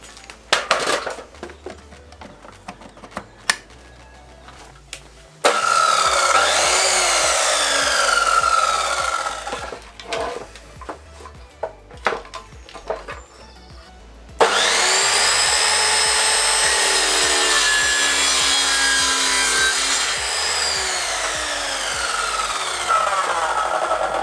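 A small power saw cuts wooden boards for making climbing holds, in two long loud bursts of whining, rasping cutting separated by a short pause, with scattered knocks and handling noises around them.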